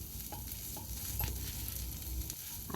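A metal spatula mashes boiled potatoes in a pan, giving soft close scraping and stirring strokes over a faint sizzle, with no voices.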